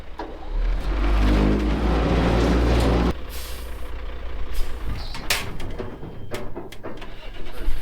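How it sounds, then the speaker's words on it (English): A skid loader diesel engine cranks and catches, running loud with a heavy low rumble for a few seconds before dropping to a steadier idle with scattered clanks and rattles nearby. "It's not very often I get to drive my skid loader."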